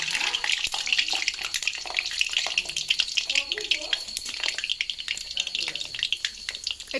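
Hot oil sizzling and spitting in a pan on the stove while mutton curry is being cooked, a steady crackling hiss with scattered sharp pops that continues throughout.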